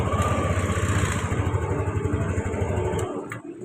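A Yamaha Lexi scooter engine starts and runs close by with a steady, loud putter, then cuts off abruptly near the end.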